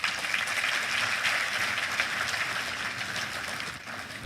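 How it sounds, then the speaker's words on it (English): Steady, dense applause from a conference audience greeting the Vice President of Nigeria at the NES 66th Conference, sustained at an even level for several seconds before tapering slightly at the end. "Please, another round of applause for him."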